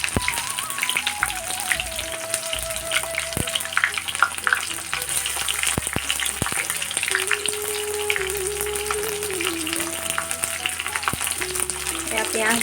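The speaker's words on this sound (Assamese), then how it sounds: "পিঁয়াজ দি দিছোঁ আৰু পিঁয়াজখিনি অকণমান ৰঙা হোৱালৈকে ভাজি লওঁ" Onions sizzle in hot oil with cardamom, cinnamon and bay leaves for a duck curry, a steady close crackle and hiss with occasional stirring clinks, while music plays faintly beneath.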